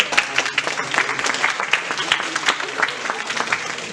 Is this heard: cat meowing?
no